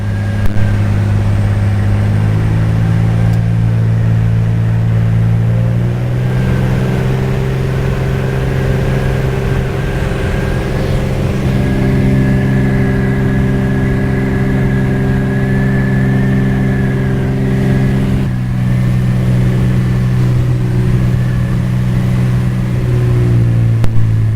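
A steady, loud propeller engine drones continuously, its tone shifting slightly in pitch over a long stretch with no talking.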